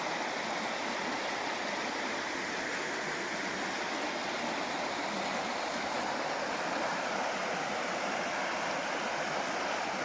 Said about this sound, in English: Alright, so we're down to the stream.